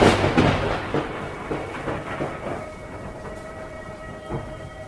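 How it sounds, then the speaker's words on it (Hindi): Heavy torrential rain pouring outside at night in a Hindi horror cartoon, a dense steady wash of noise that starts loud and gradually softens, with a low rumble underneath and no voices. "बाहर मूसलाधार बारिश हो रही थी।"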